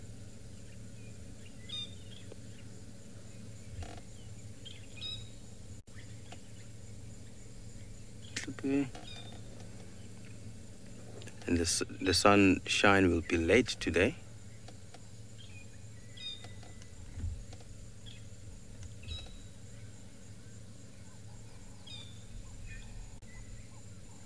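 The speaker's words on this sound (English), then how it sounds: "You can hear the birds again." Wild birds chirp and call intermittently on a safari, with short bursts of song and one louder flurry of calls in the middle, heard over open-air ambience while someone talks.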